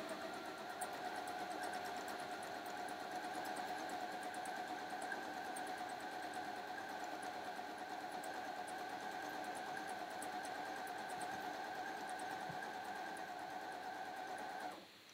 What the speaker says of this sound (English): I'm going to sew all the way down that fold line